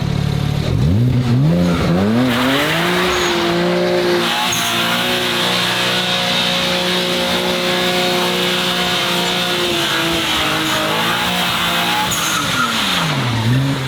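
A car held at full throttle with the engine revving high and tires squealing continuously, loud and close, the pitch climbing, wavering and falling again near the end.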